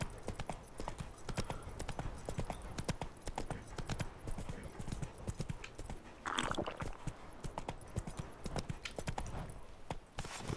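Horse hooves clip-clopping in The Witcher 3, Roach's steady hoofbeats on the ground carrying on for the whole stretch in an even walking rhythm, with an occasional faint snort and a brief brighter rustle partway through.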